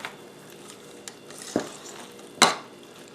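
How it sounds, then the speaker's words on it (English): A spoon stirs corn and collard greens casserole batter in a bowl, making a few soft scrapes and two distinct clinks against the side, with quiet gaps between. "So I'll stir this around."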